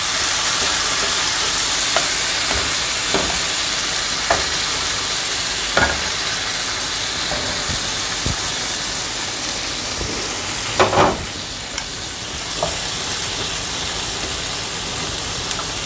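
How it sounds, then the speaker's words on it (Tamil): Marinated paneer cubes tawa-frying in oil give a loud, steady sizzle with occasional light ticks and clinks as the pieces are moved, and no one speaks. "அடுத்தது ஊற வச்சுருக்கக்கூடிய இந்த பன்னீர் க்யூப்ஸ் இருக்குல்ல, அதை நம்ம ஃப்ரை பண்ண போகிறோம்"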